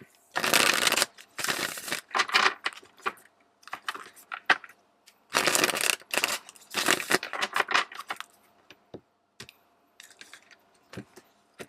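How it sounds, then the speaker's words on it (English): Tarot cards being shuffled in quick, crisp riffling bursts, two long rounds followed by shorter scattered flicks and taps, close and clear with no talking. "let's clean this up and shuffle out some tarot to see details on that"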